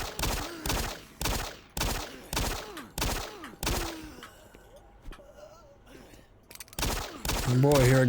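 Gunshots in Doom 3 ring out as a steady run of about eight loud, evenly spaced blasts with echoing tails, then a quieter stretch of mechanical ambience before more shots return at the end.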